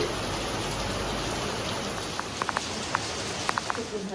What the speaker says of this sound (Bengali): দেখো এখন কি বৃষ্টি নেমেছে